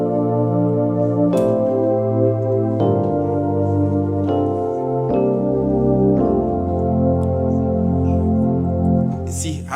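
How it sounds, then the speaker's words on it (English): A worship keyboard plays a sustained pad voice: a series of held chords changes roughly every one to one and a half seconds, each with a soft attack, forming a warm, continuous, close wash with no talking. "Now, if I strike my one pad together, it's going to sound like this."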